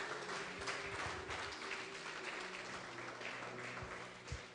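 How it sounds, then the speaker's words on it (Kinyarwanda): A church congregation applauds at a worship service, producing a broad, steady wash of clapping that carries on throughout and fades slightly toward the end. "Wakomera Yesu amashyi se."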